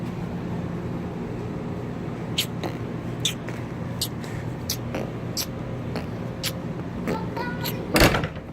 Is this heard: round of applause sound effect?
no